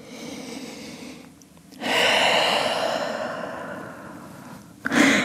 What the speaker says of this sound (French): Et on prend une dernière grande respiration dans cette position.